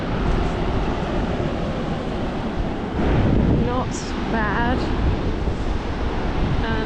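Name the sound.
ocean waves breaking at a beach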